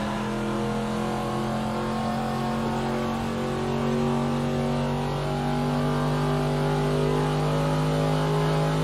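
A race car engine in a racing video game holds full throttle down the Mario Andretti straightaway at the CTMP Grand Prix circuit, a steady, loud, sustained high-revving drone with strong tonal harmonics and no pauses.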